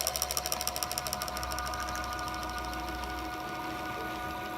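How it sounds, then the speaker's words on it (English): Dentsply DuoMix II automatic mixer extruding AlginX Ultra alginate impression material, a close, steady mechanical whir with a rapid rattling pulse at the start that smooths into a continuous drone. "Once it starts contacting the material, it'll start extruding from the machine."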